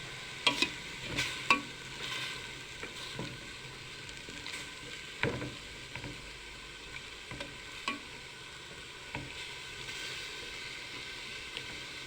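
Pork being stir-fried in a pan for a Thai khai phum curry: a steady sizzle runs throughout, broken by irregular clacks and scrapes of a utensil against the pan, close and moderately loud with no talking.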